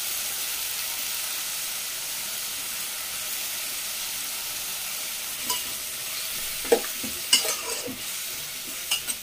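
Beans and carrots fry in a pan for vegetable upma, giving a constant, moderately loud sizzling hiss, with scattered scraping knocks from stirring clustering toward the end.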